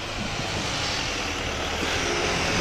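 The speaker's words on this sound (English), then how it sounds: "about the noise of the bus" A bus passes on an Oxford street on a Sunday morning, its engine a loud, close, broadband rumble and roar that stays steady and fills the whole moment.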